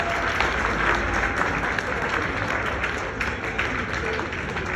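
Wedding guests clapping together at a marriage ceremony, a steady, dense round of applause filling the room, close and continuous with a faint voice beneath.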